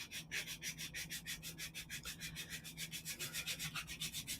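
Steady rhythmic rubbing of sandpaper on rough miniature wooden doll furniture, quick back-and-forth strokes repeated evenly, close and fairly quiet.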